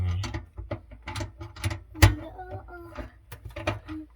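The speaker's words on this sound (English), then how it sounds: "gonna unscrew this" Metal parts of a garbage disposal being unscrewed under a sink, with a series of close clicking, ratcheting and clanking knocks, one sharp louder clank midway, while a person talks.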